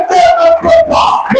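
A church congregation at a Sunday service cheers and acclaims the Lord, a short burst of loud overlapping shouts and ululating voices in a close, lively room.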